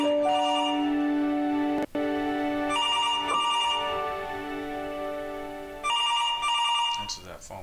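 A telephone rings in the video game Where The Bees Make Honey, its bright, tonal ring repeating in long bursts broken by short gaps, loud and close throughout.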